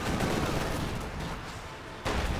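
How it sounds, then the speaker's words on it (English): Katyusha rocket barrage in the video game Company of Heroes 2: dense, rumbling explosions and crackling fire fill the scene, easing slightly midway before a fresh loud burst near the end. "And the Grens in the center are retreating through the Katusha barrage"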